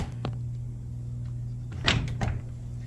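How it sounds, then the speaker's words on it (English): A heavy studio door on the front stage is pushed shut, giving a couple of close thuds and latching knocks against a steady low hum of room noise. "It takes 2 hands to close the door."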